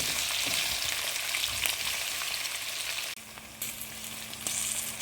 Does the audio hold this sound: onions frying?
yes